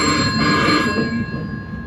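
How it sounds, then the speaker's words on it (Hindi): A telephone rings loudly and close by in a home, a steady electronic trill that holds for a moment and then begins to fade, with no talking over it. "फोन बज रहा है।"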